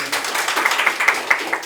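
Audience applause at a Seoul National University policy forum, a steady patter of rhythmic hand claps from a modest crowd in a lecture hall, fairly close and continuous.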